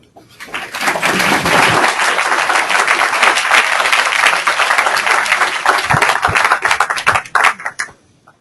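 An audience welcomes speaker Lawson Bracewell to a talk with loud, dense applause. It swells within a second, holds steady for about seven seconds, then thins into scattered claps before fading.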